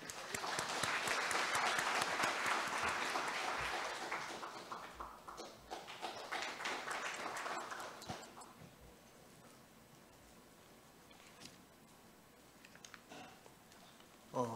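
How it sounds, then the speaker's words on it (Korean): An audience at Pusan National University's 76th anniversary ceremony applauds loudly for about eight seconds, then the clapping thins and fades to scattered taps in a quiet hall. "박수로 맞이해 주시기 바랍니다."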